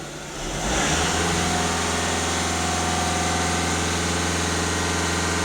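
A VW Golf 1.6 TDI diesel engine, mid-way through a DPF and EGR cleaning, climbs quickly from idle and then holds a loud, steady high-rev drone with a droning vibration throughout.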